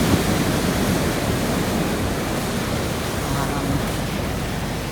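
Waves surging onto the shore at a camping spot, a steady broadband wash of surf and wind that stays loud and unbroken throughout, with no distinct individual breaks standing out.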